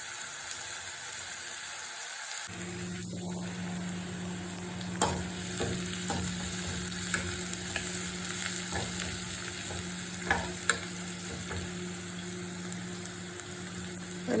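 Spice powders sizzle and fry in hot coconut oil for a rasam, a steady close crackling hiss starting after a quiet moment, with occasional stirring clicks and scrapes and no voices.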